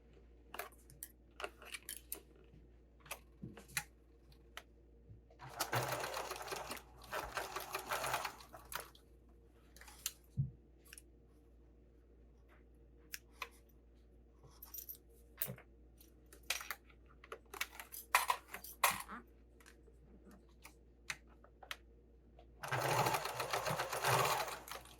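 Domestic sewing machine top stitching a sling bag pattern, running in several short bursts of rapid needle clatter separated by quiet pauses and small clicks of handling.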